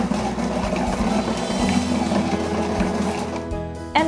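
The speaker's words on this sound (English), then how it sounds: "Select the chopping function." A ChefRobot 7 Ultracook food processor chops apple, pine nuts and vegetables, giving a steady, loud motor whir with busy rattling that holds throughout before cutting off at the end.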